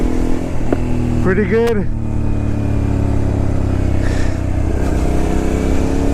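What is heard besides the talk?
Suzuki SV650S motorcycle riding on test drive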